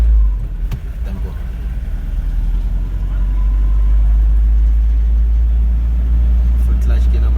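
A car pulls away during a driving lesson on a potholed road, its engine rumbling low and building steadily after a gear change, close and continuous, with some talk in the background.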